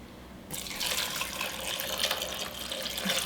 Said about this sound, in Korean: 여기에 물을 넣고 갈아야지